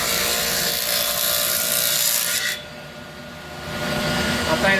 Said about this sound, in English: I've got a dado blade set up on the table saw